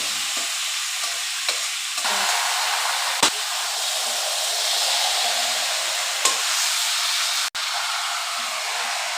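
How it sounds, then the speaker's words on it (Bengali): Marinated chicken frying in a pan with onions and ginger-garlic paste, a steady loud sizzle and hiss broken by a few sharp stirring clicks and scrapes, close and continuous, with no voices. "ম্যারিনেট করা চিকেনটাও দিয়ে এবার ভালো করে কষিয়ে নিচ্ছি"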